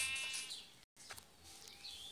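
In the Minecraft video game, a sheep bleats a few times under a wash of hissy background game sound, faint and fairly distant, with one brief dropout partway through.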